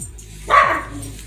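One short, sharp bark from a dog, somewhat distant, against a quiet background.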